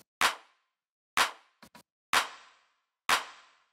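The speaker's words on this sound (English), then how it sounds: "Just helps that clap to sound really big." Electronic clap sample for progressive house with a standard reverb, four loud, close hits about one second apart, each trailing into a short wash of reverb, with a quick double tap between the second and third.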